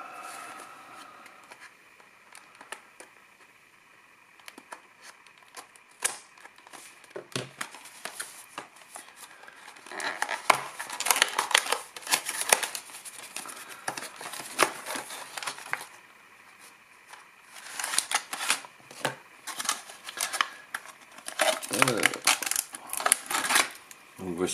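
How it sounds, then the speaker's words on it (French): Packaging for an MPOW Bluetooth receiver being unboxed, with crinkly rustling and papery scraping that comes in irregular bursts and grows busier and louder partway through, close by. "Alors, on va déballer ça."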